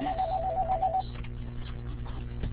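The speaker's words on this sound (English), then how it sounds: "Our phone that keeps ringing here." An office telephone rings indoors during a training session. A steady, repeating electronic ring tone plays over a constant hum for about a second, then cuts off and leaves room noise.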